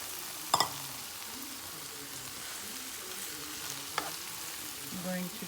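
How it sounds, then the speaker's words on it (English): Mung dal tipped into onions and green chili peppers sautéing in oil over low heat, a soft steady sizzle with a couple of sharp clinks of a utensil against the pan. "I've turned the heat to low, and now I'm going to add the dal."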